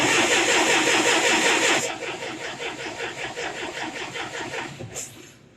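A gasoline Massey Ferguson Super 90 tractor engine cranks and catches, first a loud dense roar, then settling into a steady pulsing idle with a brief sharp burst near the end, close and alone.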